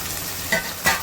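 Carrots dropped into a pan of frying white paneer pulao, a steady sizzle with two brief louder hisses as the vegetables hit the hot oil and are stirred.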